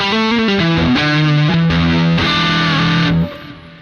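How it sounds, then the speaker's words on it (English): A clean electric guitar runs through a fuzz pedal in an iOS amp simulator, a loud, thick, buzzing distorted line of sustained notes stepping through a short phrase before cutting off and ringing out, with no talking. "take a clean sound like that and stick on a fuzz"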